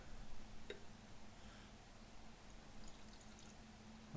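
Beer poured from a can into a glass, a soft, faint gurgling pour with a light fizz over a quiet background.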